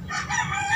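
Gamefowl rooster crowing at a small breeder's yard during a morning exercise routine, a single loud, close, bright crow filling the short moment without any talk.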